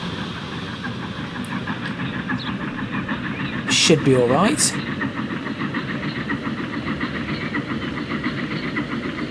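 A train runs along a branch line in the Transport Fever 2 game, with a steady rhythmic clatter of wheels and a brief whistle-like squeal partway through, while someone talks over it.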